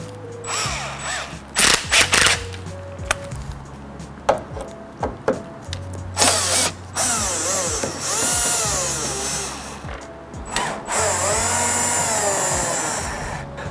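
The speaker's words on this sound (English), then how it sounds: "we'll be doing that with a T27 torque bit and a power drill" A power drill with a T27 Torx bit spins out bolts on a 3rd-gen Toyota Tundra interior, delivering repeated short whirring bursts and longer revving runs, with clicks and handling noise between them.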